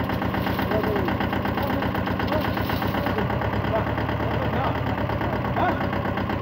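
A Kasana tractor loader with a jack-fitted loader arm idling, a steady, loud diesel rumble with a knocking pulse that stays constant throughout, close by.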